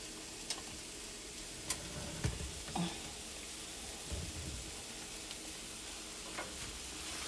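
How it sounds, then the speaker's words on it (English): Red onion and red pepper sautéing in a pan: a steady, soft sizzling hiss with a few sharp ticks and clinks scattered through, heard close and alone. "Let's saute the onions and pepper for a few minutes."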